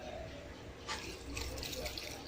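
Water pours into a pot of chana dal, pumpkin, onion and coriander leaves, a steady close splashing rush that swells louder partway through and keeps going without a break.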